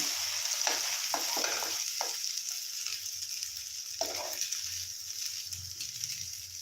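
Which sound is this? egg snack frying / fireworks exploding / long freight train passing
egg snack frying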